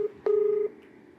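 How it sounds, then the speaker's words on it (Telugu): A single phone keypad tone being dialed, a short beep followed by a longer steady tone, clear and close with no talking. "కాల్ చేస్తున్నాను"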